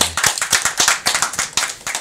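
A small group claps at a high school athletics college commitment event, a close, steady patter of individual hand claps, clearly separated, for about two seconds with no talk.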